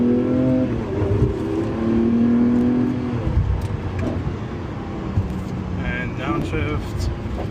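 A Lamborghini Aventador SVJ engine revs on a track and then drops in pitch through quick downshifts, blipping between gears, while someone talks over it.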